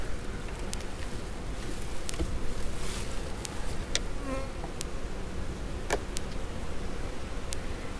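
Honeybees crowd a bee package, a dense steady buzz close by with scattered clicks and rustles as the box is handled.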